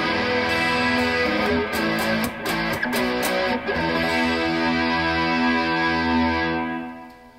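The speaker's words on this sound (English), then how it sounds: "with the full distortion and chorus and a little bit of compression on and a little bit of delay" Heavily distorted electric guitar with a shimmering chorus, light compression and echoing delay, open-string drone chords in standard tuning ringing out loud and sustained, no voices.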